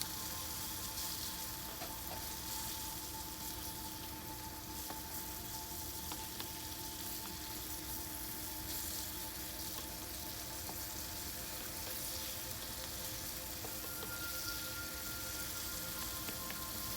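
Garlic, onion and green, orange and red bell peppers frying with tough chicken in a pot, a steady, even, rain-like sizzle that holds throughout at a low, uniform level with no talk.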